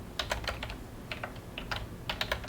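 Computer keyboard being typed on in short irregular bursts of crisp key clicks, close and fairly quiet, with no one speaking.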